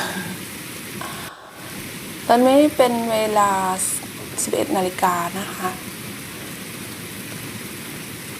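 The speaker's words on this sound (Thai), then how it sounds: "วันนี้ฝนตกที่หน้าต่างอีกแล้วค่ะ" Steady winter rain falls against a house window, a soft continuous hiss running through the whole stretch beneath a woman's nearby speech.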